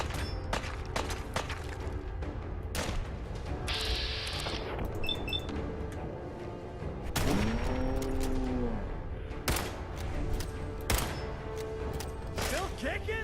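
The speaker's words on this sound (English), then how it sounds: "They're shooting Codsworth." Gunfire in Fallout 4 as enemies shoot at the robot butler Codsworth, with scattered sharp shots and bursts amid game sounds and mechanical whirs, while someone talks over it.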